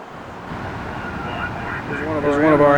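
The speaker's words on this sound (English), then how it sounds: "There's one of our ambulances." An ambulance siren at a fire station, wailing and rising into a clear undulating tone that grows louder toward the end over a steady background rumble.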